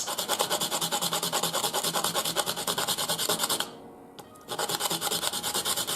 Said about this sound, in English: This one is a little harder, so it could take a little longer you should still be able to sharpen it within about a couple of minutes.